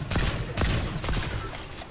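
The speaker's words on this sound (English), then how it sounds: "They're shooting at me." Rapid bursts of gunfire ring out in a video game shootout, several sharp cracks in quick succession, loud and close.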